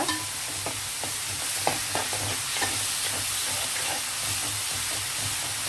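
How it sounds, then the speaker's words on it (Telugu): Onions frying in oil for a fish curry, a steady close sizzle with repeated stirring scrapes and clicks of a spoon against the pan, no voices. "ఇవి బాగా ఇలా ఫ్రై చేయాలండి, ఆయిల్లో బాగా మగ్గిపోతే గ్రేవీ బాగుంటుంది అన్నమాట"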